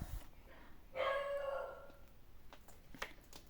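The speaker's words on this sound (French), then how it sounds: "il y a le chien qui aboie" A dog barks in a home, a burst of several sharp, fairly loud barks followed by a few fainter, scattered yaps.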